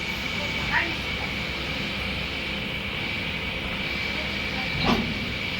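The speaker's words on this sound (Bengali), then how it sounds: "এই যে এখন ট্রেন চলে যাবে" Train pulling away from a station, a steady low rumble with a sustained engine hum, moderately distant, accompanied by talk and a couple of brief sharp bursts.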